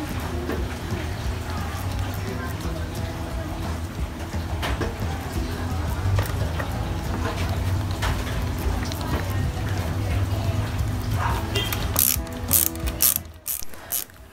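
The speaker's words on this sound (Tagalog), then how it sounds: "Mukhang okay naman at mabilis din gamitin itong ratchet screwdriver set." Steady, fast clicking of an INGCO ratchet screwdriver's pawl as it is turned, close and continuous, with a few louder clatters near the end.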